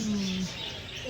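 A bird at Bannerghatta zoo near Bangalore gives a single short, low cooing call over outdoor ambience.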